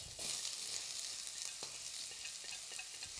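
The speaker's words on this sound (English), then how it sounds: "it's a quick flash fry of the red onions" Red onions flash-frying in a smoking hot wok give a bright, steady sizzle with a few quick stirring scrapes, fairly faint and without talk.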